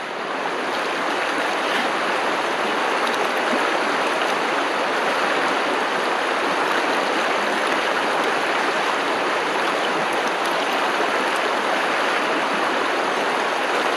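Water rushes continuously through a gold sluice box set in a New Zealand stream, a loud, steady broadband wash with no talking.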